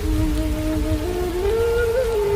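Heavy rain pours steadily in the distance with a rumbling wind, a dense continuous hiss over a low roar and faint wavering tones, loud and unbroken.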